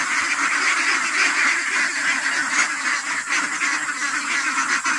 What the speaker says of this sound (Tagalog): Pinapakain na namin ang itik.